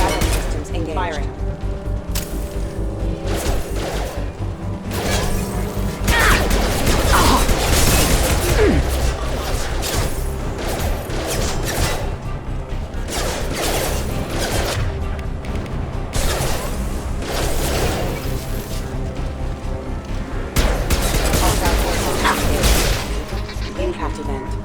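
Combat mechs and squad trade gunfire in the sci-fi shooter Mass Effect 2, with dense bursts of shots and booming impacts through the whole stretch, loud and close, under frequent radio-style voices and battle chatter.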